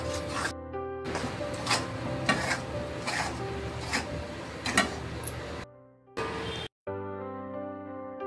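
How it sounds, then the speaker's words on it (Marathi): Gram flour (besan) being stirred into a thin batter for Maharashtrian masvadi, with a steady scraping and swishing that runs continuously and close by. Music with tonal, sustained notes plays over it, and there is a brief pause near the end. "दीड वाटी बेसन आहे, त्याचं असं पातळ मिश्रण बनवूया।"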